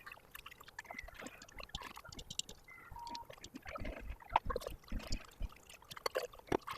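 Veal stock poured gradually into a blanquette de veau, a faint, irregular trickle and dribble of liquid with small splashes and clinks, quiet and close.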